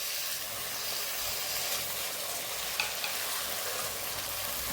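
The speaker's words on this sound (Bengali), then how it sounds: "এবার গ্যাসটা বাড়িয়ে দিয়ে এই আদা রসুনটাকে একটু কাঁচা ভাবটা কাটিয়ে নিতে হবে" Ginger and garlic frying in a pan over raised gas heat for a Bengali ghugni, a bright steady sizzle with a faint stirring scrape and small pops, close and alone without talk.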